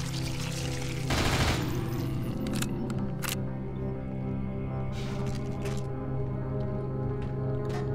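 Gunfire from a gun in the video game Nightmare House 2: a loud burst of rapid shots, then several sharper, isolated cracks spaced over a steady low in-game drone.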